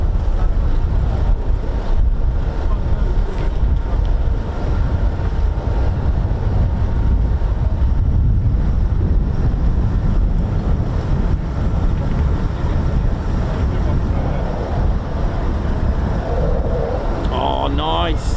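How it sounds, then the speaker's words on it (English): Loud, constant wind roars and buffets the microphone outdoors at a VE Day commemoration flypast, an unbroken rumble with faint voices talking underneath. "God, the wind's picking up now, isn't it?"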